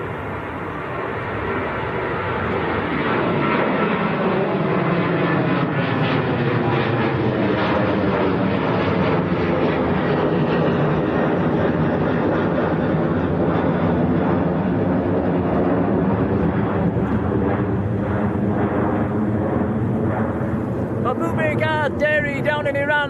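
Ryanair jet airliner taking off from Manchester Airport, a loud sustained engine roar that swells and shifts in pitch as it passes overhead, with people talking over it.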